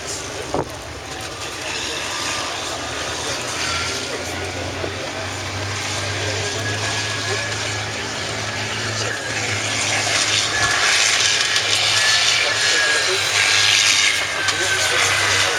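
Scimitar armoured vehicle engine running steadily as it moves into a protected position, a continuous low rumble with a broad mechanical roar, growing slightly louder toward the end, with voices talking over it.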